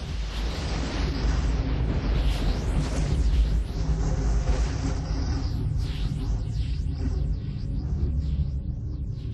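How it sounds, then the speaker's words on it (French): Simulated permanent storm in Jupiter's turbulent cloud layers, a loud deep rolling rumble with surging roars and sweeping whooshes that trail off into repeated swishing bursts, continuous and without speech. "Toutes ces turbulences nuageuses génèrent un orage permanent."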